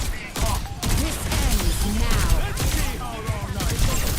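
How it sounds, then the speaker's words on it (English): A hero's rapid gunfire in Overwatch, a dense continuous stream of fast shots running throughout, loud and close, with a voice talking over it. "This hero shoots so fast, so fun."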